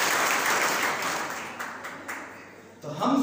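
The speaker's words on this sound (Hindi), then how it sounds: "जोरदार ताली बजाइए" Audience applause indoors, a dense spread of clapping hands that gradually thins and fades, followed near the end by a voice beginning to speak.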